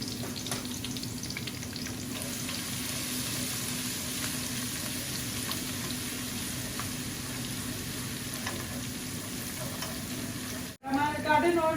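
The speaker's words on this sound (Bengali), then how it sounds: "আজকে আমি শুটকির কষা ঝোল রান্না করব।" Dried fish curry (shutki kosha jhol) cooking in a pan, with a steady close sizzle and frying hiss throughout and a brief handling knock near the end.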